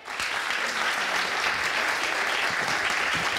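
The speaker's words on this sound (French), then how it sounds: "Applaudissements pour elle, s'il vous plaît." Applause at a French-language conference on seaweed, a full, dense wash of clapping from an audience, steady and loud with scattered sharper claps, no talking over it.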